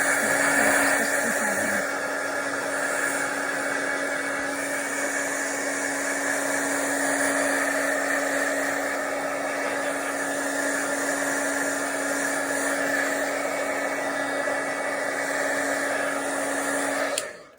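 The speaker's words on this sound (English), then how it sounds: "if you do not have one of these dryers, just get you a hair dryer." A hair dryer drying watercolor paper blows with a steady, loud whir and high hum, running continuously before cutting off at the end.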